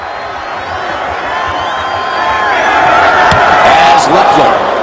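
Roaring crowd at a Houston Texans at Kansas City Chiefs NFL football game in 2013, a dense stadium din that swells steadily louder, with cheers rising over it and broadcast commentary talking on top.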